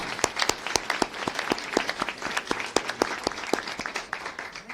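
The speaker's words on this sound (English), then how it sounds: "Can you give them a big round of applause?" Audience applause for healthcare professionals at a political event about Medicaid cuts, a steady patter of many hands clapping with sharp individual claps standing out, moderately loud and continuous throughout.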